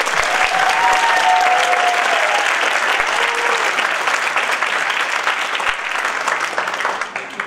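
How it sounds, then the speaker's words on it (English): Loud, sustained audience applause at a Korean festival event honoring administrators, dense clapping from a large crowd that holds steady and begins to thin near the end. "Give a loud applause."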